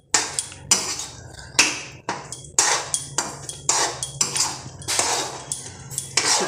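Metal spoon repeatedly striking and scraping a pan while moong dal powder is stirred into sugar syrup, giving a steady series of close, sharp clinks and scrapes.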